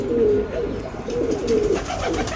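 A pigeon coos nearby in a few low, rolling phrases, clear and fairly loud with little else around it.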